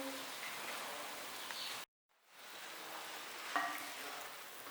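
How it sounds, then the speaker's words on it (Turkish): Steady sizzling of eggplant frying in a pan, briefly cut off then resuming, with a faint scrape of stirring. "Patlıcanı güzelce karıştırıyorum."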